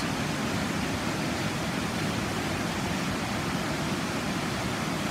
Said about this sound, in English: I'm going to leave you with just this amazing sound of the water